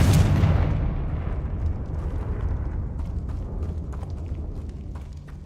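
A Confringo fire spell in a video game bursts into a loud booming explosion at the start, and its rumble and crackling debris slowly fade away over the next several seconds, with no talking.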